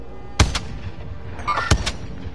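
Two heavy, booming sniper rifle shots in Warzone ring out about a second apart, each with a short echoing tail, over low ambient game noise.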